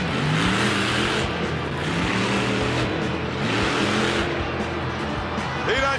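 The Bulldozer monster truck, its front bar snapped and hanging off, revs and roars loudly through a freestyle run at a 2004 St. Louis event, engine surging repeatedly with tire noise and crowd ambience.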